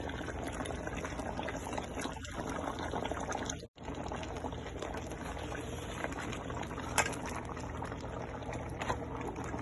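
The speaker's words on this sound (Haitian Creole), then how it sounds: "Ça, c'est pois. Ça bouille." A pot of peas boils steadily, a dense continuous bubbling and simmering hiss that fills the whole stretch, broken only by one brief cut of silence partway through.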